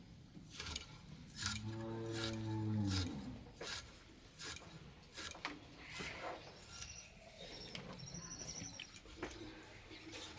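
A knife cutting star fruit, with a series of close, crisp slicing taps against a board and some brief tonal clatter, faint and unaccompanied by speech.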